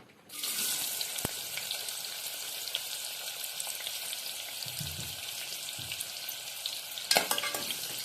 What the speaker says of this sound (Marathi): आता हा जो तेजपत्ता आहे तो थोडासा फ्राय झाला आपण ह्याच्यामध्ये आता कांदा टाकून घेऊया